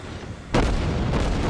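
Naval battle game ship guns fire a single heavy booming salvo, a sharp onset followed by rolling rumble and a second fainter report, with no talk.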